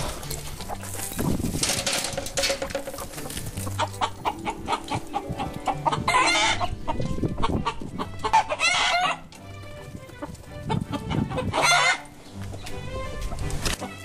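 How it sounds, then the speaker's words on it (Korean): Korean native chickens cluck and honk in a busy yard while a rooster crows several times, loud and close, the calls overlapping continuously. "우리 재래닭을 이렇게 형질을 복원하려고 하는 할아버지가 계신데 거기서 8마리를 구해왔어요"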